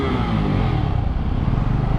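A Suzuki Gixxer 250 motorcycle engine rumbles loud and close, a deep, throaty exhaust note with a steady idle-like pulse.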